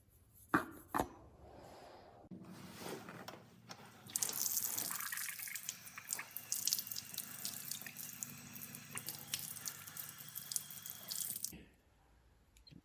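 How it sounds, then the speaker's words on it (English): Water runs from a tap into a sink while a san mai steel knife blade is washed with dish soap, splashing steadily for several seconds with some clinks and rubbing, then the flow stops. "I first degrease the blade using some dish soap and water."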